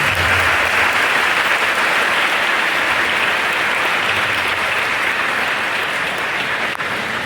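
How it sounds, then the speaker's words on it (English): A large audience applauds a guest speaker at IIT Madras, loud, dense and sustained clapping that fills the room evenly from start to finish with no talk over it. "One more round of applause"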